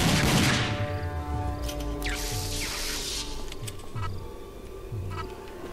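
Gunfire in the shooter game RAGE, a dense, sustained barrage of shots layered over a low droning game score with repeating rhythmic pulses, loud and continuous throughout.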